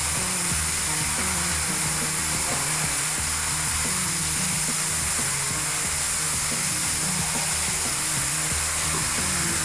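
Concrete floor grinder polishing an Agri-Rok concrete overlay with grit pads, a steady broadband whir and hiss with low motor rumble running continuously and fairly loud, no voices.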